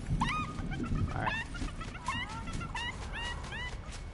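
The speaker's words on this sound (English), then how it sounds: "So many chickens." Chickens clucking in the Fortnite video game, a string of short, sharp squawks repeating every half second or so over a busy, noisy game background, fairly faint and without speech.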